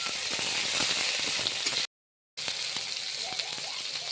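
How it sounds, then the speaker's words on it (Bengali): Ginger-garlic paste frying with chopped onions in a pan for a veg paneer dish, giving a steady, close hissing sizzle that cuts out briefly and then resumes. "এখন আদা রসুনের বাটা একটু ভেজে নিচ্ছি।"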